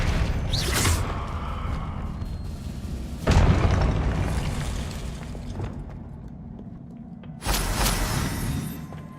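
Confringo fire spell blasts in the video game Hogwarts Legacy: three loud booming bursts, the first with a rising whoosh, each decaying into a rumbling tail with no talking.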